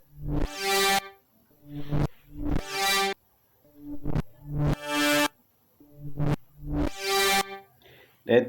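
A strange, alien-like synth patch from FL Studio Mobile, with no effects added, plays a series of bright, buzzy swelling notes in a repeating rhythmic phrase, loud and alone.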